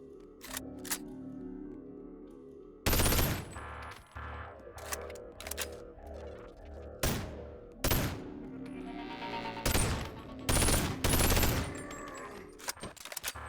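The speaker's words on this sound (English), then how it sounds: "The Saber-like variant of the MK18. This thing is a mag dumper" Bursts of rapid automatic fire from an MK18 rifle in the VR game Bonelab, several sharp loud volleys separated by short pauses, over a quieter background of game sounds.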